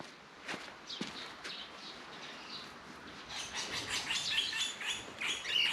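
Birds chirp near an old mill, their thin, rapid tweets growing busier and louder toward the end after a couple of soft knocks and footsteps.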